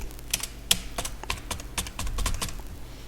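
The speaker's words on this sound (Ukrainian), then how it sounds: "Набираю там якесь прізвище." A surname being typed on a computer keyboard, quick irregular key clicks close to the listener, some strokes sharper and louder than others, heard alone without speech.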